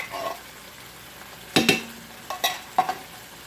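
Food sizzles in an electric skillet under a steady frying hiss, broken by several sharp scrapes and clinks of a utensil stirring against the pan.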